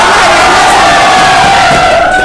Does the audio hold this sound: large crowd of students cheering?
yes